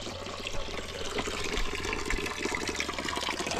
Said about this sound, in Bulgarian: Водица на хижа Маркови кладенци. Тук ще допълниме.